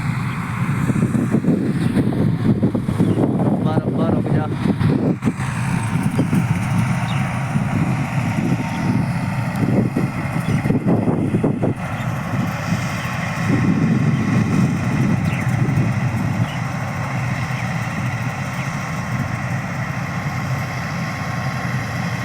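A combine harvester cuts wheat in a field with its engine running, a continuous heavy mechanical drone with rattling and rumbling from the cutting machinery, steady and fairly loud throughout, no talk.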